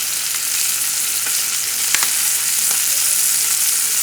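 A boned Cornish hen with carrots browning in a hot pan, a loud continuous sizzle and crackle with occasional small pops and spoon scrapes, no voices.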